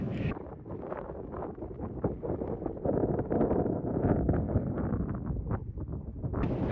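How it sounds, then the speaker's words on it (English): Steady wind buffets the microphone on a hilltop near Wave Rock, Hyden, a continuous low rumbling roar with gusts rising and falling throughout. "It's a little windy up here"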